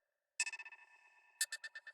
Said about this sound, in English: It's just a little tinky echo sound, percussion at the end. And that's just literally a little hi-hat sound, the original sound here.